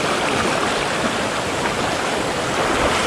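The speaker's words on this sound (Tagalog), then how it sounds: "So, ito yung Tumutulo Falls." Tumutulo Falls in Bulacan, swollen after rain, rushes in a loud continuous broadband roar of falling water, steady and close, with no voices.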